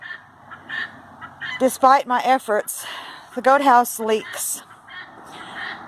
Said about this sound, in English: You can hear my guineas in the background.